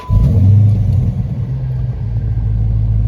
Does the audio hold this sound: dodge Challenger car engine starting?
yes